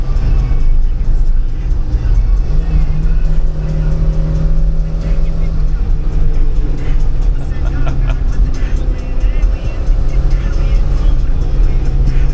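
A 1979 Porsche 924 with a transaxle layout drives up twisty mountain roads, its engine a steady close drone from inside the cabin with shifting pitch as it works through gears and bends.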